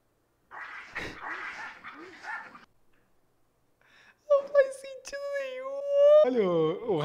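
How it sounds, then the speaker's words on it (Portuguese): Small dogs bark and yip in a short rapid string, followed after a pause by a loud whining, howl-like whimper that rises and wavers; close and prominent, with no clear talk over it. "Esses cachorrinhos aí são bravos."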